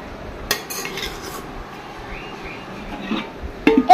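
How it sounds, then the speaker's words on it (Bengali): Rice is served onto a plate with a utensil, giving a few close clinks and scrapes of metal against dishware, spaced unevenly and fairly loud, with no talk. "দেখো আমি ভাত নিয়ে নিচ্ছি।"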